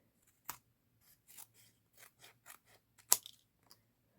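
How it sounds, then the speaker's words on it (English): Scissors snipping paper to trim a piece from a Graphic 45 envelope pocket card, a series of short, crisp cuts at an uneven pace, close and fairly quiet, with one sharper snip near the end and no talking. "I'm just going to trim this piece off"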